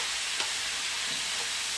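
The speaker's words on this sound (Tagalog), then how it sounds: "ipiprito ko lang siya hanggang sa maging golden na siya" Pork frying in a pan until golden, a loud, steady, close sizzle of hot oil that fills the short moment with no talking.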